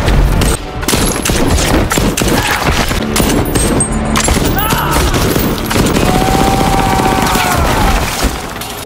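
Sustained gunfire from an action film shootout in a mafia revenge story, with dense bursts of shots and crashing impacts running loud and continuous throughout.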